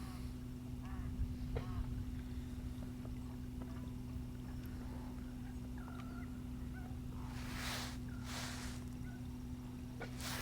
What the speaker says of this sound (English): And if you can hear that bird, that's making some strange noises. A load more geese down this end as well.